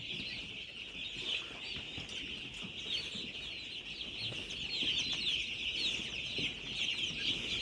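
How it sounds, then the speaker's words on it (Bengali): Young broiler chickens in a 6,000-bird flock on their fourth day, drinking water and keeping up a continuous, faint chorus of high peeps and soft clucks. "পানি দিচ্ছে, পানি খাচ্ছে মুরগিগুলো।"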